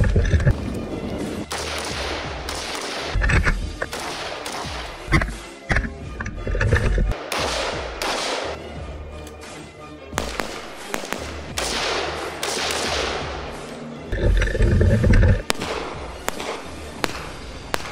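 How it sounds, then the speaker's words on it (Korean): Gunfire from special forces soldiers on an army special warfare school combat range, with rapid rifle bursts, single shots and pistol fire cracking loudly and continuously, sharp reports in quick irregular succession. "교관의 신호와 함께 특전요원의 사격이 시작됩니다."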